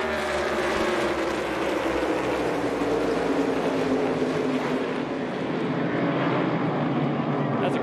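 NASCAR Cup Series stock cars race through turns 3 and 3A at Sonoma, their engines merging into a continuous heavy drone with pitch slowly falling as the pack passes, loud and sustained.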